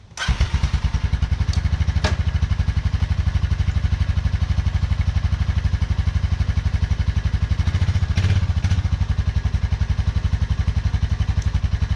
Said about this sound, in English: Should probably leave it idling, but the exhaust pipe's right there by my face.